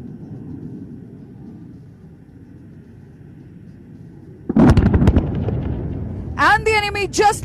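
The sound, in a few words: aircraft-dropped bombs exploding, Indian Air Force demonstration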